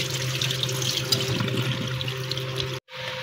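Running water rinses a fresh surmai (kingfish) in a home kitchen, a steady close splashing flow that cuts off abruptly near the end, then briefly resumes.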